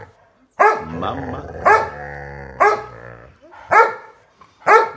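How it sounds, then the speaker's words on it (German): A dog barks loudly in a series of five sharp barks spaced about a second apart, with short growly vocal sounds between them, close and clear. "Das ist Hundesprache, nicht?"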